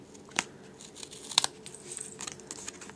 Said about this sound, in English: So I'm just going to turn it over and trim off my edges